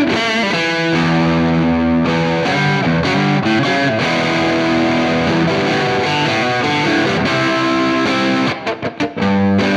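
A Stratocaster electric guitar built in 1962 style, played through distortion: loud, sustained overdriven chords and bends with dense harmonics, ending in a few choppy staccato stabs.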